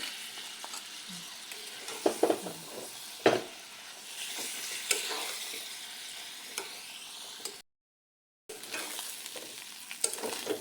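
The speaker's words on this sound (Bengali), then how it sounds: "মশলাটা ভাজা হয়ে গেছে, এখন দিয়ে দিলাম মাছের ডিম।" Fish roe drops into a pan of fried spice mix with cumin powder and sizzles steadily, with scraping stirs and a few sharp clinks of the spoon against the pan, close and alone with no voices.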